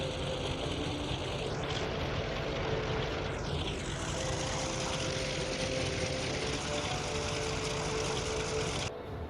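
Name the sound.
carrier aircraft taxiing on deck in the video game Task Force Admiral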